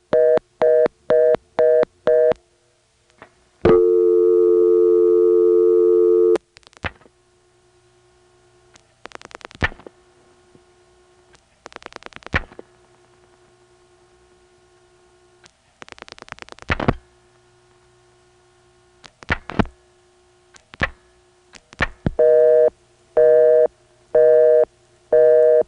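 A Stromberg XY telephone exchange returns a busy signal after a line dials its own number: loud, steady on-off pulsing tone in short regular bursts, with dialing clicks and tones between, heard alone on the line.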